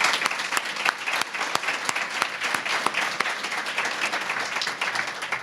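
Steady applause from a luncheon audience honoring Eric and Jean at a college honors event, dense crowd clapping filling the room at fairly close range, sustained evenly for several seconds with individual sharp claps standing out.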